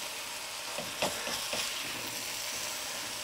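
Ground meat sizzles in a pan as it is flipped, a soft steady frying hiss with a few scraping stirs and spatula knocks over it, fairly quiet and without talk.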